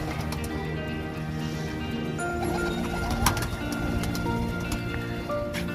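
Teddy pigeons coo steadily in a pigeon setup in Lahore, a layered chorus of soft, low, rolling calls, with scattered clicks and faint background clatter throughout.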